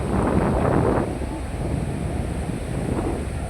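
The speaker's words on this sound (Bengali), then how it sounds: "অনেক ঢেউ অনেক বাতাস সমুদ্র পাড়ে ডোবলাচার সমুদ্র সৈকত" Wind and sea waves on the beach at Dublar Char: a steady, rough wind roar buffets the microphone, with a broad surf wash swelling early and again near the end.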